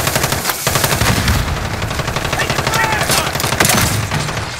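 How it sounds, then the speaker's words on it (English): Rapid automatic gunfire crackles continuously through a multiplayer flag-capture match in the video game Call of Duty: Modern Warfare, loud and dense with overlapping bursts and no pauses. "Taking enemy fire!"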